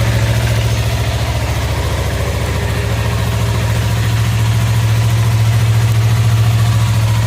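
A 2015 Yamaha YZF-R3 motorcycle engine idles steadily right after an oil change, a loud, close, even low rumble that holds for several seconds with no talking.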